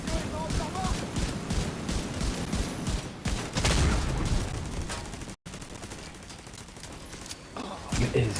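Dense gunfire and rocket blasts from a raid in the shooter game Tom Clancy's The Division 2, rapid bursts and booms running almost continuously, with players talking over the action.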